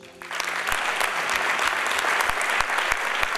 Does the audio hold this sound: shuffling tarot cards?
no